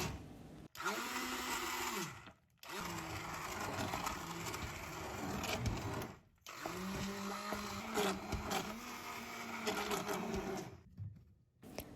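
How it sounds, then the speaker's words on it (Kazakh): A blender whirs steadily as it purees cooked lentil soup into a smooth cream, running in two long bursts with brief pauses and a third start near the end, loud and close with no talking. "Енді блендердің көмегімен кремге айналғанша жақсылап араластыруымыз қажет."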